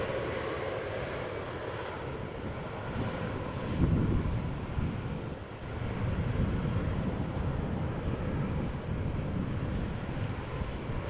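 A fixed-wing airliner roars steadily as it lands at Amsterdam Schiphol Airport after rain, a broad continuous engine rumble that swells slightly midway, with some wind noise.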